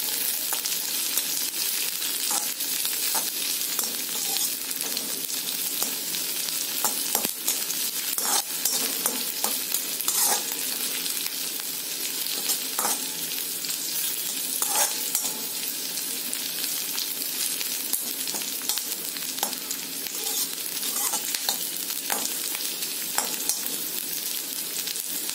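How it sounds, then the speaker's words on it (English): Onion sautéing in a pan, a continuous dense sizzle with frequent small crackles and occasional stirring scrapes, close and steady throughout with no voices. "Saute the onion till it is translucent"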